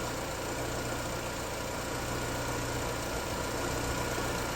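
A car engine idling steadily during a battery test, a constant loud mechanical rumble with broad hiss that does not change over a few seconds, with no speech.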